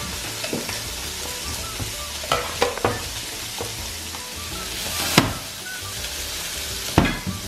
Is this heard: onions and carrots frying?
yes